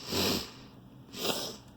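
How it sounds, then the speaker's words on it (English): A person sniffles twice through the nose, two short, close, breathy intakes about a second apart with quiet between them. "I'm so sorry I'm sniffling so much"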